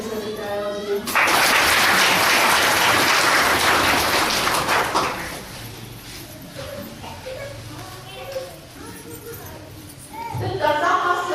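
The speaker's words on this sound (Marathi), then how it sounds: "आदरणीय महाराज आले त्यांच्यासाठी टाळ्या वाजवू." A crowd at a Sankranti gathering bursts into loud clapping for an arriving Maharaj, a dense burst that fades after a few seconds into voices and chatter.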